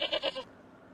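Goat bleating close by, a quick wavering cry of three or four pulses that stops abruptly, followed by faint background hush.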